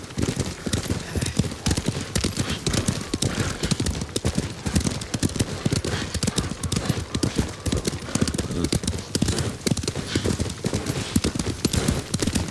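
Horses' hooves clip-clop at a quick, continuous gait in the video game Ghost of Tsushima, loud and close throughout, with a faint whinny in the mix and no speech.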